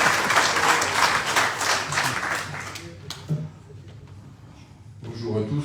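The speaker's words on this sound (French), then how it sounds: "je demande d'accueillir et d'applaudir le maire de Palavas" Audience clapping to welcome the mayor of Palavas-les-Flots at a political gathering, strongest in the first few seconds and then thinning out, with voices mixed in around it.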